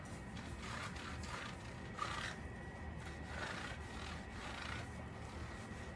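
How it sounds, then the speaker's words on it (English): A cloth soaked in rubbing alcohol is rubbed over a bicycle wheel rim during a tubeless tire conversion, giving a steady close scrubbing hiss with soft repeated strokes and no talking. "we're just gonna clean this. Give this a nice wipe down"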